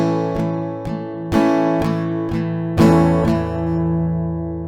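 An acoustic guitar plays a slow strumming pattern for a song, with distinct strums spaced out and emphasized downstrokes, close and clear, alone with chords ringing out at the end.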